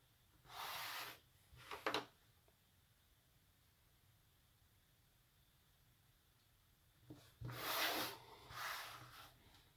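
Thicker pen scratching across paper while sketching over a grid, two short bursts of soft scratchy strokes separated by quiet, very close and faint.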